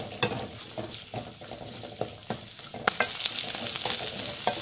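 Garlic fries in oil in a pan on a gas stove for holige saaru, a close, steady sizzle broken by the scrape and clink of stirring.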